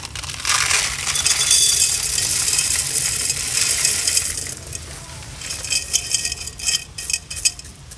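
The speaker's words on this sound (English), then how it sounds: "I'm just going to put some gravel in the bottom of my pot" Gravel pours and rattles into the bottom of a plant pot for drainage, a close, continuous gritty clatter followed by a few separate clinks and scrapes of stones settling.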